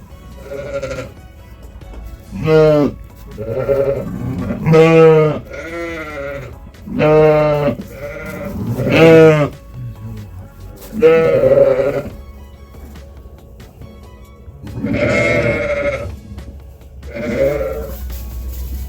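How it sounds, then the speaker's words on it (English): Newborn lambs bleating close by on a sheep farm during lambing season, a string of about ten wavering, high cries in short bursts separated by brief quiet gaps. "There's two lambs."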